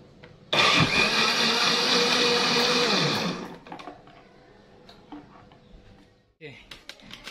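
An electric blender whirs loudly for about three seconds, grinding a chicken herbal remedy, then winds down, followed by faint handling clatter and a brief voice.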